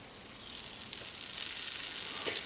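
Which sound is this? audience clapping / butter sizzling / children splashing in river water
butter sizzling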